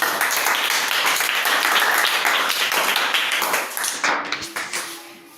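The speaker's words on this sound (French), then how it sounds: "Quand il monte, vous acclamez très fort pour lui." A church audience in Mbuji-Mayi applauds loudly for a young talent stepping onto the stage, dense sustained clapping that thins and fades toward the end, with a faint tone emerging.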